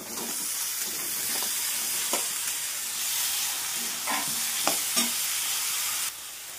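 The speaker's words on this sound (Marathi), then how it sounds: "छान मिक्स करणार, भाजीला फ्राय करून घेणार।" Potatoes and peas for aloo matar frying and being stirred in a pan, a constant loud sizzle broken by periodic spatula scrapes, close and without any voices.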